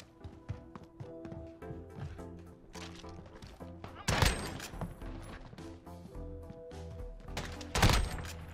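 Gunshots in Modern Warfare ring out as a few muffled single shots and taps, then two louder, sharper bursts, under game music and ambience.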